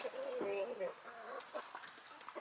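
Backyard chickens cluck and call in bursts close by, with a voice talking over them.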